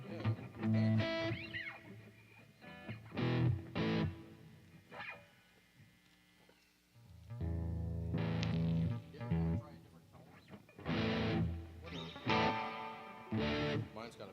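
Electric guitar with heavy reverb giving a big, hollow sound, distorted chords played in loud bursts with gaps between, fairly close.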